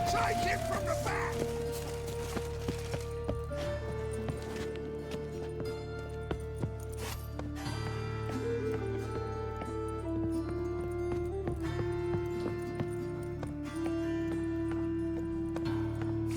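A horse galloping in The Witcher 3, its clip-clop hooves thudding steadily beneath continuous game music and sustained tones, with voices talking intermittently.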